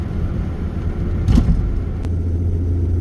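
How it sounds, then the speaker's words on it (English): Steady low road rumble of passing traffic from inside a car on the way to a thrift store, with a brief louder swell of a nearby vehicle midway and no talking. "A lot of traffic."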